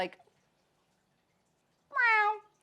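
One clear, drawn-out cat meow rings out close by after a brief sound and near silence.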